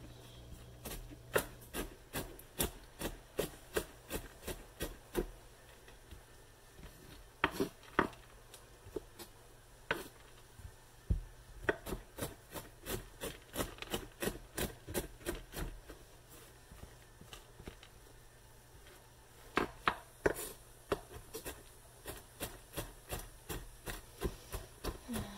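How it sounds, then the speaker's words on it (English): A knife rough chopping peanuts on a board, a long run of sharp, irregular taps and clicks, sometimes clustered and sometimes spaced apart, close and quiet with no talk. "Just gonna rough chop these peanuts because they're already in pieces."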